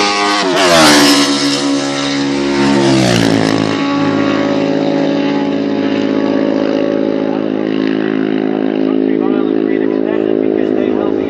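A racing motorcycle roars past during a race, its engine note sweeping loudly up and then down before settling into a steady droning hum, with a commentator talking over it.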